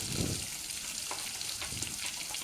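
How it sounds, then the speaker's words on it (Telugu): Onion pieces with green chillies and curry leaves sizzle steadily in hot oil while being fried for a prawn dish, a continuous close crackling hiss with a few soft stirring scrapes. "ఒకసారి మనం అయితే అన్నీ కలిసేలాగా ఒకసారి బాగా ఫ్రై చేసుకోవాలన్నమాట"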